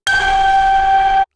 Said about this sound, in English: the spring clicks into place and loosens, and it does this great ping